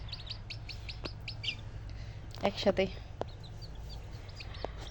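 Native chicken chicks hatched in an incubator chirp in a rapid series of high peeps near a small cage, with someone speaking briefly partway through and a low steady hum underneath.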